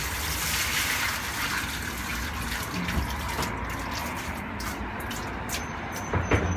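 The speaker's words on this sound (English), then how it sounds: "just be careful when you're pouring because it may splash up a bit" Hot oil poured out of a donut machine during cleanup, a steady rushing, splashing pour like water filling a basin, continuous and close for several seconds with no talk.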